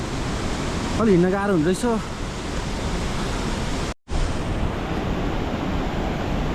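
Rushing river water beneath a footbridge near Lapchi in Dolakha, Nepal, a steady broadband roar running throughout, with someone speaking briefly over it and a short dropout near the end.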